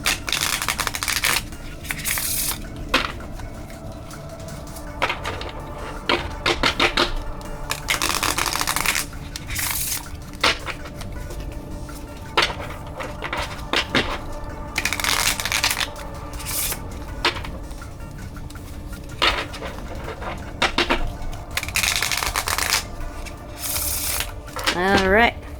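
Playing cards being shuffled repeatedly during a Halloween-themed card activity, a series of riffling, fluttering bursts close by with short pauses between them, mixed with rubbing and handling sounds.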